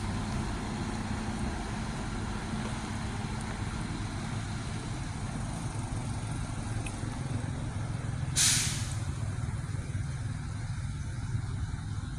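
A bus pulling into the Akap intercity terminal in Pekanbaru lets out a single sharp air-brake hiss over a steady, loud engine rumble and surrounding traffic noise.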